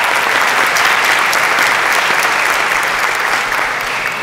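Audience applause after a Crowdcast startup pitch, a dense, steady clapping from a crowd in a hall that holds at full strength and eases slightly toward the end.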